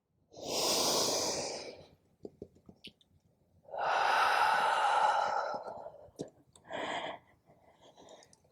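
Slow, deep breathing during a Pilates cat and cow exercise, with two long audible breaths of rising and falling air, soft clicks between them and a shorter final exhale, close and quiet with no talk.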